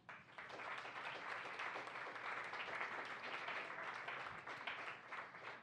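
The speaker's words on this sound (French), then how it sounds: "Une bonne main d'applaudissement." Applause from an audience, a dense, continuous wash of clapping that holds steady from start to finish.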